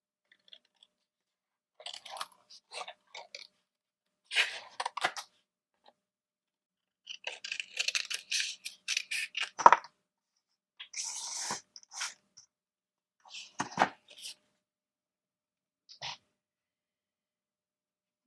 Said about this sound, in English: Now, these two are really close together, so I will cut the 2 flowers as one.